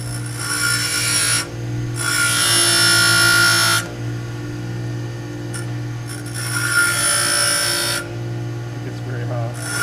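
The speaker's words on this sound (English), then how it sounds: "want me to grind some of that off?" Harsh grinding trims excess length from a homemade GoPro swivel mount in several loud bursts of a few seconds each, separated by a lower steady motor hum.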